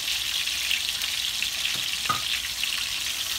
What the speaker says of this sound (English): For those who are intimidated when it comes to frying a whole fish